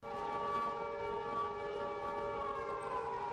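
A Croatian emergency alert siren gives one loud, sustained, even tone with several stacked harmonics. It sounds up close and plays alone for a few seconds.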